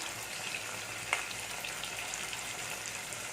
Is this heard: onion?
yes